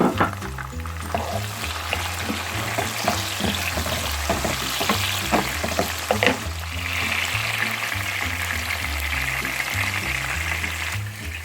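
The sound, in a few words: tomatoes added to onions and lamb frying in a pan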